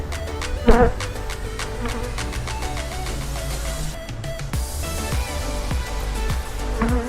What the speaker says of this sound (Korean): 이렇게 하여 꿀벌들이 말벌을 완전히 풀러놨습니다